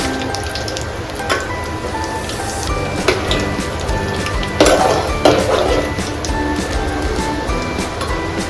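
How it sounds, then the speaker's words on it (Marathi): Cashews frying in a pan over low gas heat for a Hyderabadi chicken dum biryani, giving a steady close sizzle and crackle with occasional clinks of a utensil against the pan, no voices. "आता हे जे काजू आहेत ते मी आता थोडेसे फ्राय करून घेते, ब्राऊन कलर येईपर्यंत"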